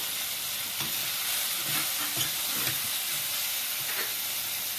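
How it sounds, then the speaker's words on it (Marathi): Tomato and onion sizzle steadily in a hot pan while roasted sandge are tipped in and stirred, a continuous close frying hiss with soft stirring clatter and no talk. "त्यात आपलं छान टमॅटो कांदा परतून झालेले आपण आता भाजलेले सांगे टाकून देणार आहोत"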